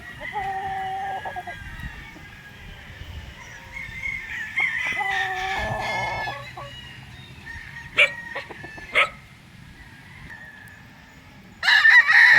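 Several roosters crow nearby at a poultry expo in Tanauan, Philippines, their long cock-a-doodle-doo calls overlapping, with a few sharp clucks and one loud crow near the end.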